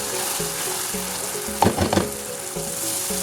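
Tomato masala for egg curry sizzles and fries in a pan, a steady crackle with a brief burst of louder stirring and spattering partway through, close and with no voices.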